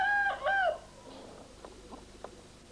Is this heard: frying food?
no